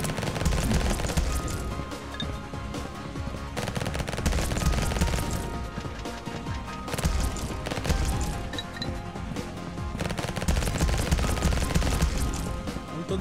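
Rapid gunfire from a fast-firing weapon in the roguelite game Vampire Hunters rattles on continuously and loudly, dense shots layered with game effects.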